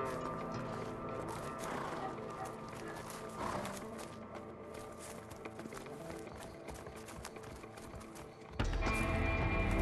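Horses in the game A Way Out, with clip-clopping hooves and restless movement blending into a continuous bed of noise and music, moderately loud, ending in a sudden louder surge.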